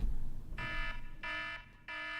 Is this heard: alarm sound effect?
yes